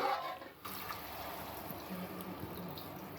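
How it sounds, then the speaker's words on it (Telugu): Water poured into a pot of village-style drumstick curry being cooked with milk, a steady soft pouring and trickling that holds at a constant level throughout, fairly quiet with no talk. "నీళ్లు పోసుకుందాం. ములక్కాయ ముక్క ఉడకాలి కదా,"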